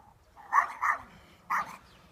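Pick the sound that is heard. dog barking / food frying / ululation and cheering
dog barking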